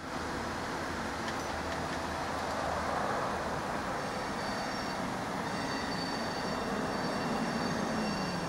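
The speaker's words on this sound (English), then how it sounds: "this was Norfolk Southern Train NS 290." A Norfolk Southern freight train rolls past at a bridge in Atlanta, Georgia, with a steady rumble of wheels and railcars and faint metallic squeals running continuously at moderate distance.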